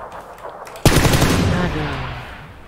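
Gunfire in the battle-royale game PUBG: a sudden loud burst of shots breaks in after a quiet moment, then a reverberating tail rings out and slowly fades, with faint talk underneath.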